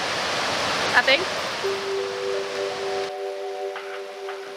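Steady broadband rush of the Paranui waterfall in a Whangarei forest fills the scene, with a brief spoken remark and a few faint tones layered over it.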